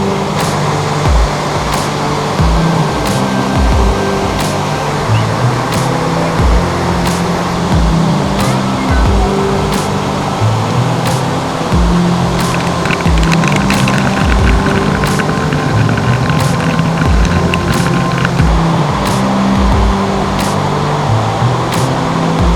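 Cataract Falls in Owen County, Indiana roars as a continuous, loud, even rush of falling water, heard alone and unchanged throughout, with a few faint clicks.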